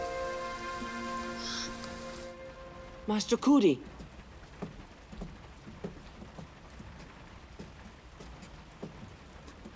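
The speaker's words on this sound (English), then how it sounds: "it's raining so hard" Heavy rain patters steadily and softly. A tonal musical passage fades out near the start, and a short shouted voice breaks in.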